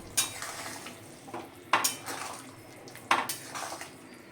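A spatula stirs boiled potatoes in a pot of catfish curry, producing three sharp metallic scrapes and clinks against the pot spaced about 1.5 seconds apart, with softer shuffling between them and no voices.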